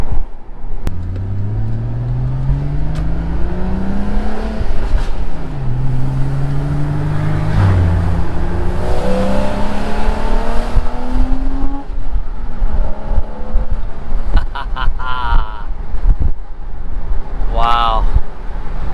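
A 2013 Porsche Boxster's engine climbs through the revs under acceleration, rising tones sweeping upward and dropping at each shift, loud and close from inside the car, with talking over it.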